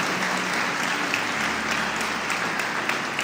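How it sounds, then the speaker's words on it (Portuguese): Congregation applauding during a church service, a steady, even rush of many hands clapping at moderate loudness, continuous across the whole span with a low hum underneath. "Você pode aplaudir ao nome de Jesus?"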